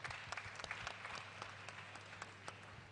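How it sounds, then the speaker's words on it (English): Audience applause at an international financial inclusion conference, a steady wash of many hands clapping at moderate distance, fairly faint and continuous throughout. "A round of applause for Flutterwave."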